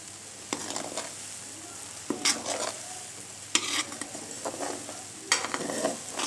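Homemade ghee sizzles in a hot pan and gets stirred, a steady soft frying hiss broken by several sharp scraping strokes of the spoon against the metal, heard up close with no talking.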